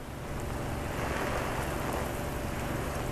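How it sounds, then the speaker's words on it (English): Steady rain falling in Times Square, New York, a dense continuous hiss with patter on surfaces, moderately loud and unbroken, with no talking. "The rain is what's slowing things down, certainly in Times Square."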